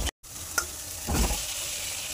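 Spiced soybean chunks being sautéed in a pan for a soybean and potato curry, with a steady close sizzle, a brief stirring clatter and a short burst of frying noise midway.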